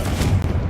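A Confringo fire spell explodes in Hogwarts Legacy as a single short, deep, heavy boom.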